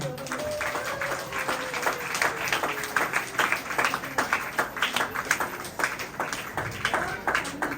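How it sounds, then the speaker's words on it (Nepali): A group at a Christian wedding claps steadily for several seconds, a moderate round of applause with an even rhythm. "हामी सबैजनाले हामी ताली बजाउनेछौँ।"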